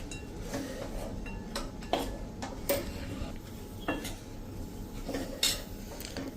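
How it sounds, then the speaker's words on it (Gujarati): A utensil scrapes and clinks against a pan while flour and spices are stirred and roasted over a low flame, making soft irregular clatters and taps over a hissy background, with no voices. "સાવ સ્લો ફ્લેમ ઉપર આ રીતે મિક્સ કરીને અને રોસ્ટ કરી લેશું"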